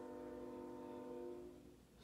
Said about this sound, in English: really? A damn train?